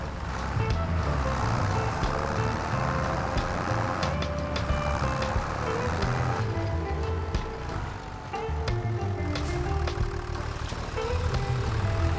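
Tractor hauling a loaded pallet platform to a construction site in the video game Farming Simulator 25, a steady engine rumble with scattered clicks and rattles throughout.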